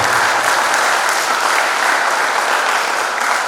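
Sustained, dense applause from an audience at a high school graduation ceremony at SMA Stella Maris in North Jakarta, honouring the parents; many hands clap steadily and loudly for the whole stretch with no talk over it.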